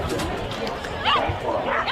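A small dog barks and yips in bursts during an agility run at an indoor international festival ring, with crowd noise and commentary-like chatter around it.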